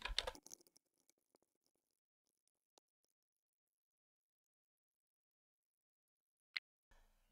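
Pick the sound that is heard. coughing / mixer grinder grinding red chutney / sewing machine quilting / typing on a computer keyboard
typing on a computer keyboard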